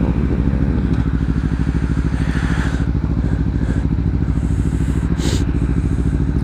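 Motorcycle riding in traffic, its engine throbbing in a loud, continuous rhythmic pulse close to the microphone, with faint passing traffic noises and no talking.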